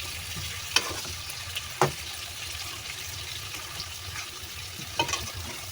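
Potatoes fry in a pan while aloo chicken rice is being cooked: a steady close sizzle runs throughout, broken by a few sharp clinks and scrapes of stirring.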